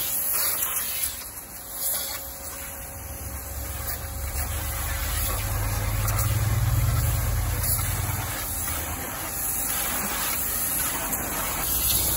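An Iris Ohyama SBT-512N pressure washer blasts water over a kei truck, a continuous near hiss with a low pump rumble rising in the middle as the spray plays along the panels.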